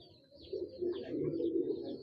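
A Rampuri pigeon in a cage gives one sustained, throaty coo at close range, rising after a quiet start and holding steady for about two seconds.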